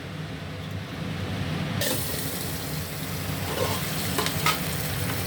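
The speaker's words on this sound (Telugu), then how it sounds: "ఇలా ఎండుమిర్చి వేసుకోవాలి." Dried red chillies dropped into hot oil for tempering a ridge gourd and peanut dal, a steady hiss of frying that suddenly brightens and grows louder partway through, with faint clinks, close and without talk.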